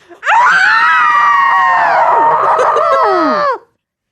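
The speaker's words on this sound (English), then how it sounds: "I'm going to scream into my baby blanket." Several people scream together into a baby blanket, one long loud sustained scream of about three seconds that cuts off abruptly into silence.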